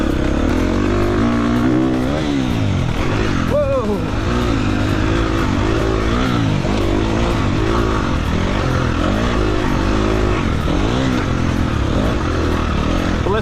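A brand-new, very light dirt bike with almost no hours on it, ridden on its easy map without traction control, its engine revving hard and loud and close, with rising and falling pitch sweeps as the rider works the throttle.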